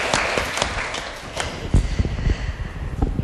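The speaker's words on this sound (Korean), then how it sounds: "박수 부탁드릴게요." Audience applause after a live literary talk and reading event, a broad spread of clapping that continues steadily and rises slightly toward the end, fairly near and moderately loud.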